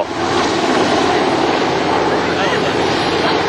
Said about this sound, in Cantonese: 飛行服務隊亦都派出直升機協助。